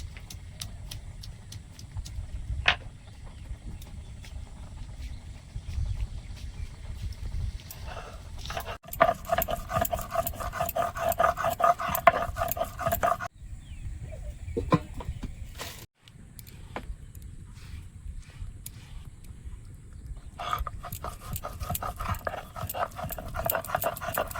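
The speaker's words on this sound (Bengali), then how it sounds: "জিরে আর কাঁচা লঙ্কা বেটে নেবো" Cumin and green chillies ground on a grinding stone, with rhythmic back-and-forth scraping strokes close by, broken by a few short pauses.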